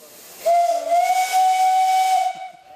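A loud, sustained steam locomotive whistle blows steadily for about two seconds over a broad hiss of escaping steam, then cuts off.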